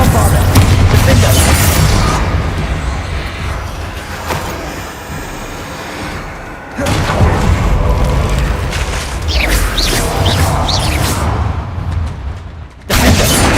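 Hogwarts Legacy combat with Confringo and Bombarda explosion spells: repeated heavy booms and crackling blasts in a loud, continuous battle mix, briefly dropping before erupting again, with a voice speaking over it.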